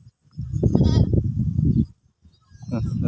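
Goats bleating out in a wide rice field, several calls rising over a low murmur of a voice, with a pause before another bleat near the end.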